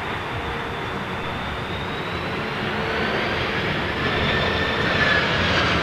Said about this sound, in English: Look at this, Iberia A330.